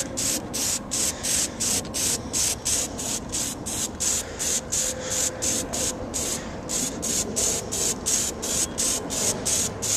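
Plasti Dip aerosol can spraying onto a Jeep grill, the can getting cold and sputtering: a loud, close, steady hiss broken into rapid regular pulses, about three per second, continuing without talk.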